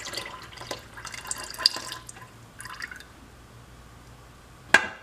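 Liquid soap base is poured slowly into a pot, giving sparse drips and light trickles with quiet gaps and one sharp click near the end, no talking.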